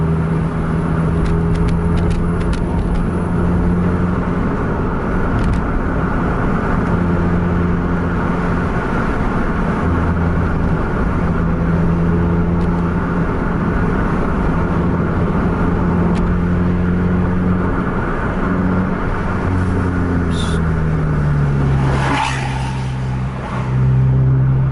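Two Scania buses, a 1626 and a K410, race along a straight road, a heavy engine droning loud and steady throughout with deep rumbling tones, shifting pitch near the end as revs change.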